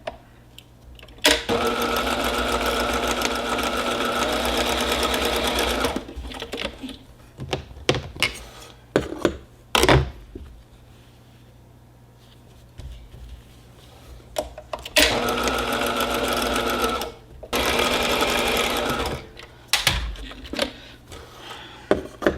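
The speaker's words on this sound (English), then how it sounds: "you sew it down on the bottom" A sewing machine stitches fabric for a quilted hot pad in two long, loud, even runs, with short handling clunks and taps between them.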